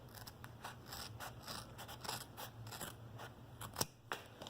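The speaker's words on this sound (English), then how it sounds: "I'm going to cut it in half first." Scissors snip a sheet of sandpaper in half before it is used to polish cloudy headlamps, giving a close series of crisp cutting and scraping strokes with a few sharper clicks near the end and no talking.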